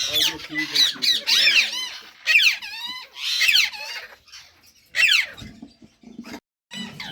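Parrots squawk and screech in shrill, repeated bursts inside a breeding cage, near and loud, with a yellow female sitting on three eggs; quieter gaps fall between the calls.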